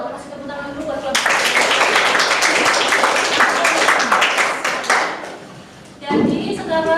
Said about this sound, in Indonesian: Kasih tepuk tangan dulu buat kelompok.